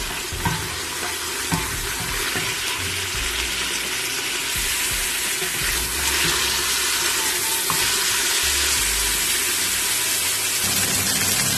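Goat trotters frying in a pan for mutton paya, a steady broad sizzle that continues evenly throughout with occasional soft clinks and stirring.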